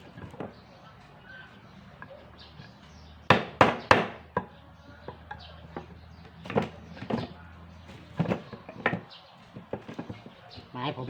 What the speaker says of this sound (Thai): ค่อยๆตอกก่อน อันดับแรกตอก่วนนี้ก่อนนะครับ